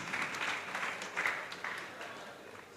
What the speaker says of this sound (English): A round of applause for him as he comes up for the awards.